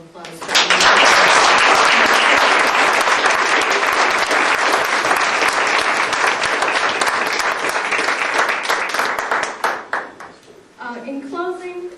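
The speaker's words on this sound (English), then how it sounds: "could we please have a nice round of applause?" A live audience breaks into loud, dense applause that swells quickly and holds for about ten seconds before tapering off, after which a voice begins speaking.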